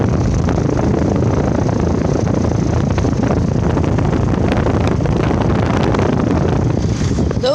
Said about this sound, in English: Gigi's Trane XR14 starting up. It has an Alliance scroll compressor